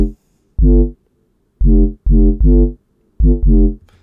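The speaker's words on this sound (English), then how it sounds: "I'm going to start with the bass preset Roadman." A Serum synth bass preset called Roadman for UK garage, from the Production Hut UK Garage Volume 1 pack, playing short, loud, punchy bass notes in a choppy syncopated rhythm with silent gaps between them, alone and close.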